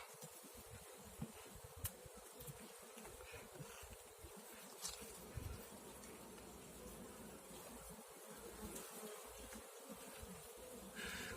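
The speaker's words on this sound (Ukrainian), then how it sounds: "дуже багато молодої бджоли" Dense, continuous buzzing of many honeybees close by around a hive, a steady droning hum with occasional louder passes, no voices.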